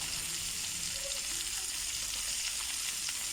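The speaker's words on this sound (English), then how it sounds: "This is the braised for the samp. I'm going to let this fry up." Half an onion frying in a pan as the base for braised samp, a steady close sizzle and crackle running continuously with no talk.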